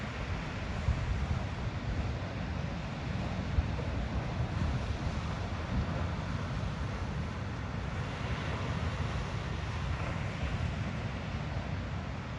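Small ocean waves break at a surf spot, making a continuous broad wash of surf mixed with rumbling wind buffeting on the microphone, steady throughout with no voices.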